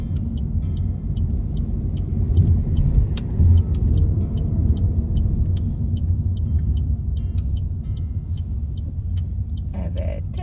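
A car makes a U-turn on a driving test course, its engine a steady close-up rumble inside the cabin, with a rapid ticking turn signal running throughout and a brief clatter near the end.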